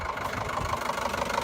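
A 2006 Renault Scenic engine idling with a rough, clattery, diesel-like top-end noise, a steady close mechanical chatter with rhythmic ticking held evenly throughout.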